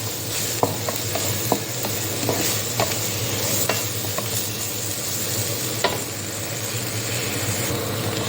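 Agathi flowers and grated coconut stir-fry in a pan with a steady close sizzle, while a spatula scrapes and taps the pan in irregular knocks under a low constant hum.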